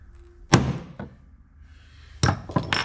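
A hammer strikes a metal punch to mark a gasket during work on a Stihl MS 260 Pro chainsaw: two sharp close knocks, a pause, then two or three more quick taps.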